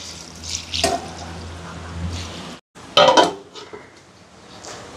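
Water splashes and pours into a metal cooking pot of curry leaves and vegetables in a couple of short bursts, with clinks of cookware between and no speech.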